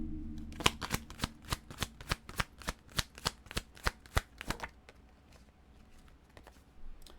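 A deck of cards is shuffled in a quick run of about a dozen crisp, evenly spaced riffling snaps, close and clear, that stops partway through and leaves quiet room tone.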